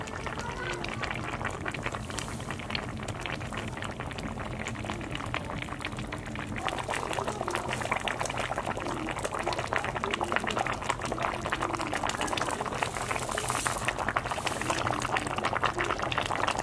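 A pot of carp and tofu stew simmering over low heat, giving a steady soft bubbling and watery hiss that grows slightly busier midway, faint and continuous, with no talk over it.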